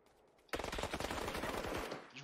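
Automatic gunfire from a video game shooter bursts in after a short quiet moment, a rapid, sustained spray of close, loud shots.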